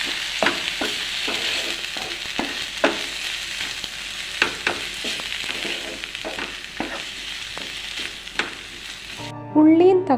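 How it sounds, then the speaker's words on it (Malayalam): Onion, tomato and prawns sizzle in a pan for a Kerala-style prawn roast, a steady frying hiss broken by repeated scraping stirs of a spoon, ending in a brief musical sting. "ഇനി ആ വെന്തു പാകമായ ഉള്ളിയും തക്കാളിയും എടുത്ത് നമ്മുടെ ചെമ്മീനിലേക്ക് ചേർക്കാം. രണ്ടും കൂടി യോജിപ്പിച്ച് നന്നായിട്ടൊന്ന് വഴറ്റിയെടുക്കാം."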